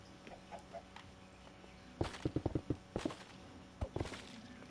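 Chickens in the Minecraft video game cluck in a quick run of short, sharp bursts, with a few scattered faint clucks before and after, heard alone at moderate loudness.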